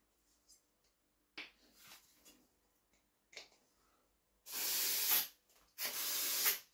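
Two strong bursts of pressurized hissing spray from a Mazda MX-5 NC fuel injector being cleaned, each about a second long, follow scattered soft clicks and puffs, close and fairly loud.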